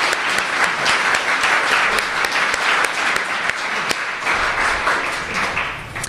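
Sustained audience applause greets the author Rachel Kushner as she comes on stage, a dense, steady wash of many clapping hands that holds at an even, fairly loud level throughout, with no voices over it.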